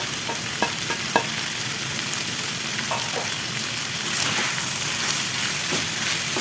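Sliced medium onion frying in a pan for a chicken wrap filling, a steady close sizzle with soft scraping stir strokes and faint clicks of the spoon throughout.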